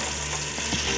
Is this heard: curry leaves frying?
yes